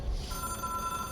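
A telephone rings in the video game Control, a steady electronic ring sounding over a low ambient hum with no voices.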